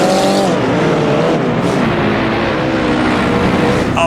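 A 1959 Corvette race car revs up and accelerates in the Assetto Corsa racing game, a loud continuous engine roar climbing in pitch through the gears, heard alone and without talk.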